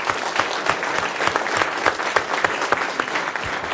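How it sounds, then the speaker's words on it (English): Audience at a city council meeting breaks into steady, sustained applause, many hands clapping in a dense, even patter throughout. "Let's give them another round of applause."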